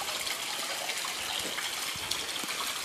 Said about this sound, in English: This water feature on the lower portion has its own little waterfall fed with a different feed